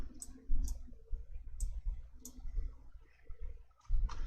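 Computer mouse clicking on spreadsheet cells in Excel, several sharp close clicks spaced irregularly over low room noise, alone without talk.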